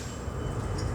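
A metro train pulls into the 120-year-old Mordialloc station on the Frankston line, giving a loud, steady rumble of rolling wheels and carriages close by, with a faint high squeal near the end.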